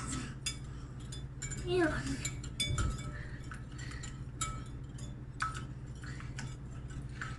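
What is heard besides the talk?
whisking eggs and butter in a bowl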